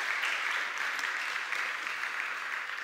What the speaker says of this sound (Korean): 우리 축복 후에 우리 박수 한번 드리겠습니다.